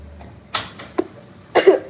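Someone eating candy coughs in a few short, dry bursts, a single cough followed by a quick second one and then a stronger double cough, close and fairly loud against a quiet room.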